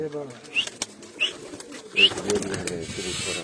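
Pigeons from a cross of English and Piplan breeds coo in a few short, separate calls against a murmur of background voices and room noise.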